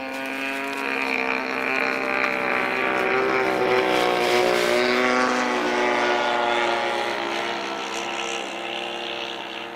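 Model airplane making a full-speed pass over the runway at a model aircraft meet, a loud sustained propeller-engine whine with rising and falling pitch as it goes by, no talk.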